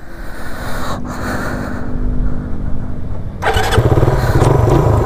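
A carbureted 2021 Suzuki Raider 150 motorcycle engine cranks and catches, a brief quieter gap giving way to a louder, steady running engine close by.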